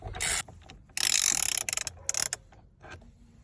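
A ratchet wrench unscrews the steering wheel bolt on a Mazda 6 GJ, with close, sharp bursts of rapid pawl clicking separated by short pauses.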